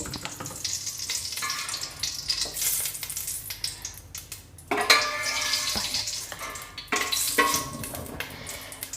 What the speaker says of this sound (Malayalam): 2 ടേബിൾ സ്പൂൺ നെയ്യിട്ടു.